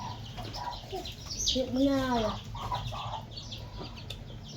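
Chickens cluck close by in a farmyard, with a short run of rising, warbling calls in the middle of the clip while people talk over it.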